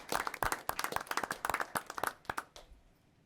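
A small group at a city council meeting claps after an oath of office, sparse, distinct handclaps in an uneven rhythm that thin out and stop, leaving quiet room tone.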